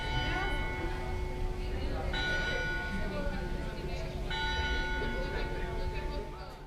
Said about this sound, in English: At every hour on the dot, the bell to praise the Virgin Mary rings in the Tower of Loreta